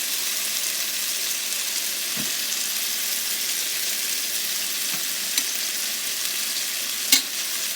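Turkey burgers fry in a well-heated pan with a loud, steady, close hiss and sizzle throughout, broken by a few faint clicks and taps and no talking.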